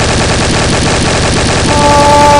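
Rapid automatic gunfire from a weapon in Garry's Mod, loud and dense, sustained without a break for the whole stretch with a ringing tone near the end.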